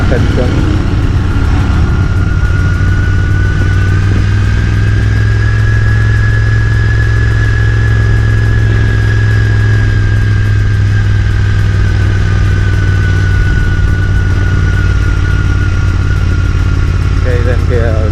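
A Royal Enfield motorcycle engine runs steadily in first gear on a lakeside road ride near Agoncillo, a loud close thump with a constant low drone and little change in pitch, under talk throughout.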